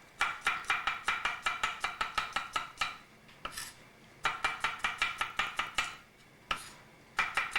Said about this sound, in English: Let's slice up some garlic here.